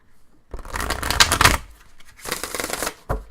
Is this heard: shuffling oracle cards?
yes